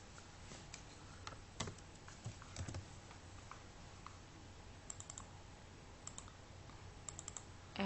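Data being typed on a computer keyboard for an Excel worksheet, a quiet, irregular patter of key clicks with a few sharper taps, close by and steady with no one speaking.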